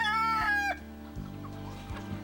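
Korean native chickens clucking and calling nearby, with one loud drawn-out call at the start followed by lower, softer clucks over a steady low background hum.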